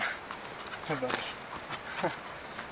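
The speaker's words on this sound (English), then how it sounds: "I thought I almost lost my dog there for a second." A dog gives a few short, high whimpers and yips, faint and separated by pauses, in a quiet outdoor setting.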